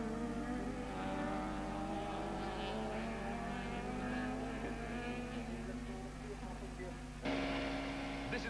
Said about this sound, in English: Puffs of smoke from both cars as they lock up the brakes for the AA Bowl.